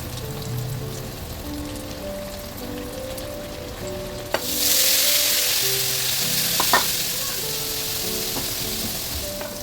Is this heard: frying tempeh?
yes